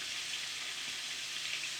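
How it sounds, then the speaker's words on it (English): Steady, dense sizzling of oyster mushrooms frying in hot oil, a constant crackling hiss with no pauses and no voices. "We frying oyster mushrooms."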